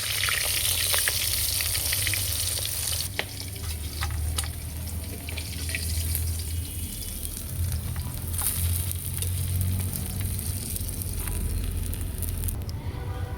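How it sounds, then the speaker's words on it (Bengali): Fish frying in hot oil: a loud, steady sizzle with a dense hiss and scattered crackles and pops throughout, with no voices. "খুব লাল করে ভাজা হয়ে গেছে মাছ"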